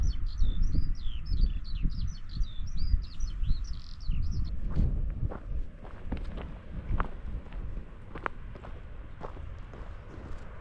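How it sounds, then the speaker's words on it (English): A skylark sings a rapid, twittering stream of high notes for several seconds, faint and distant over wind buffeting and footsteps on a coastal walk. "Another skylark."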